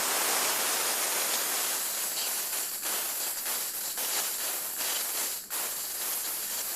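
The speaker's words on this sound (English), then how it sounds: "There will be hissing and spitting at this point because there's water." A bomb calorimeter in a lab has its pressure discharged with water inside, giving a continuous loud broadband hiss broken by irregular spitting crackles that lasts several seconds, close and alone.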